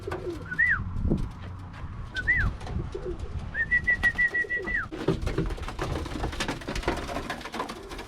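Young roller pigeons cooing nearby, several soft rising-and-falling coos followed by a longer drawn-out call, with rustling and light background noise.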